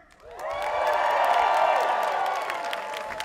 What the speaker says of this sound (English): I demand that your voice give us a resounding cheer